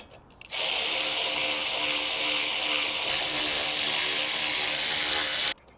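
A power tool, likely a cordless impact driver or drill, tightening a brake caliper bolt on a Peugeot 308 GTi, giving one steady loud buzzing whir lasting about five seconds before stopping.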